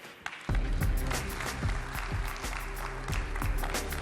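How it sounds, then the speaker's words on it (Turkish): Audience applause at a Turkish award ceremony for Paralympic and disabled athletes, starting abruptly after a brief quiet and continuing as a steady crowd clap over a low, droning hall background. "Türkiye Basketbol Federasyonu Başkanı Sayın Hidayet Türkoğlu'nu alkışlarınızla sahne alıyorum."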